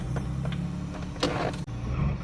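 A classic car engine runs roughly with the choke off, chugging unevenly and missing on some cylinders before briefly cutting out and catching again, close and steady throughout.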